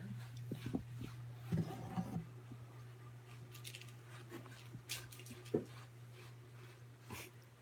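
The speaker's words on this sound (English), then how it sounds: "That sound you hear is Tabby licking the perch behind the cat tree right over here." Soft, wet licking and smacking sounds of a cat licking a wooden perch on a cat tree repeat irregularly over a steady low hum, close by and fairly quiet.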